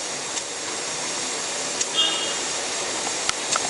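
Pineapple rasam, a tamarind-water broth, boiling in a pot gives off a steady, even hiss of simmering and steam with a few faint clicks, lasting the whole stretch.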